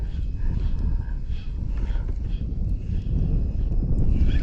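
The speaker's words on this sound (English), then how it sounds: "I'm in the wind right now" Wind buffets a small fishing boat near an island while it runs out for redfish, a steady low rumble and roar close to the microphone throughout, with no clear talk.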